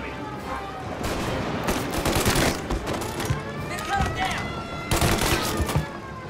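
Gunfire from a gun in Mafia Definitive Edition during a fight against S.W.A.T.: repeated loud bursts of rapid shots with ricochet-like whines, set against steady background game noise.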